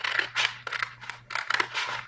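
Scissors trimming excess vinyl, a run of rapid crisp snips and slicing strokes in quick succession, close and distinct over a faint steady hum, with no talking.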